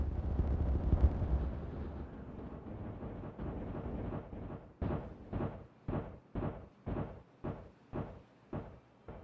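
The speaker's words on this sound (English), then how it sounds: "Ah, the traditional slow, painful explosions." Explosives set off in the beaver colony-building game Timberborn: a rumbling burst opens, then a steady series of about ten evenly spaced, muffled thuds follows, each fading quickly, with no talking.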